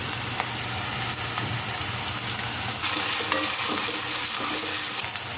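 Ginger garlic paste sizzles and fries in a hot pan while being stirred, a steady crackling hiss with scraping stir strokes throughout, close and without talk.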